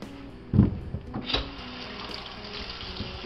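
Water running from a tap over peeled potatoes in a sink, with a sharp splash or knock near the start and a softer one after, then a steady gentle flow.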